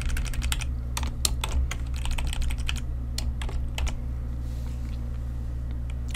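Fast, crisp keystrokes on a computer keyboard in bursts with short pauses, close up over a low steady hum, while VBA code is entered in Excel.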